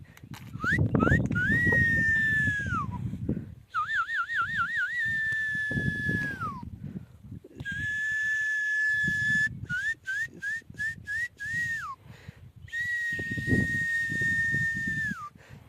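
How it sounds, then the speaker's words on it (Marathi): A person whistles loudly to cows and buffalo at a water tank, repeated bursts of rising trills and long sliding notes, with pauses between phrases and rustling noise underneath. "शिट्टी अशी वाजवते"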